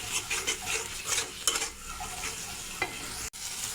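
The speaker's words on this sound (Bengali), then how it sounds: "এখন মশলাটা কষিয়ে নেব" A spice paste of turmeric, chili and coriander powders with a little water sautés in a pan for a fish curry, hissing steadily up close while a spoon scrapes and stirs in repeated strokes, with no talking.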